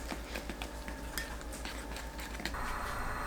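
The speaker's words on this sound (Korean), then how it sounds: "계란 3분의 2에 파래, 후추 한 꼬집 넣고 섞어주세요." Eggs with green laver seaweed and a pinch of pepper are whisked in a bowl, giving quick rhythmic clicks and scrapes of the utensil, faint and close, with no talking.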